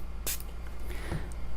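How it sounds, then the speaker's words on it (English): A quick spray from a handheld water bottle misting a wet watercolor river landscape, one brief hissing burst followed by a softer second puff, close by in a quiet room. "Just spray it quickly."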